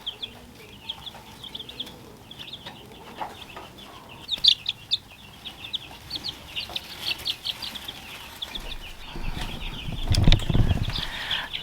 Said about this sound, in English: Hubby went ahead and brought the new chicks out here into the brooder in their new house